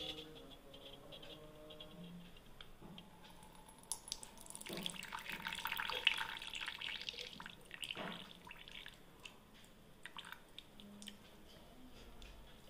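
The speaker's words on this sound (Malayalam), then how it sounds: "അത് നമുക്ക് കപ്പിനകത്തോട്ട് ഊറ്റാം." Tea decoction for dum tea being poured into a cup, a quiet trickling and dripping of liquid heard close up, faint and unhurried.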